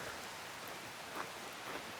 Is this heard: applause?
no